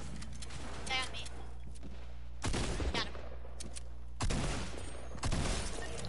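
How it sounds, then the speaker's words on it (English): Video game gunfire: two or three loud broadband bursts of shots spaced a couple of seconds apart, over a steady low hum and faint background game sound, with no talk during the shooting. "He just started shooting."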